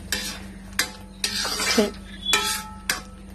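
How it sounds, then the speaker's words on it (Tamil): Tomato masala for paneer butter masala splutters and sizzles in a pan, broken by several sharp spatula scrapes and stirs at close range. "நம்ம தக்காளி போட்டிருக்கிறதுனால இது வந்து சட சட சடன்னு அடிச்சிட்டே இருக்கோங்க"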